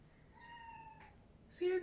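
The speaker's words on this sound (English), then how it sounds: "See the kitty cat meowing?" A house cat meows in short tonal calls, near and fairly clear, with a louder cry at the end, while a person talks over it indoors.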